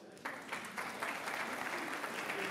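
Applause from an audience at a real-estate investment talk, honoring Jean-Christophe: a steady wash of many hands clapping that starts abruptly after a brief lull and holds at moderate, even loudness throughout.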